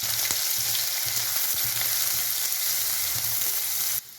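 Cumin, green chillies and onion fry in a pan with an even, loud, close sizzle and occasional stirring knocks, then the sound drops off abruptly near the end.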